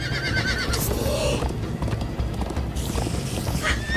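Horses gallop in steady rhythmic hoofbeats amid loud game audio in Minecraft: Story Mode, with a horse whinnying sharply a couple of times over the pounding.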